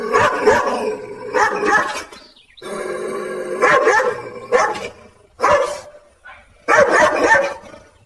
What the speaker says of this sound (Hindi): जोर जोर से भौंकने लगता है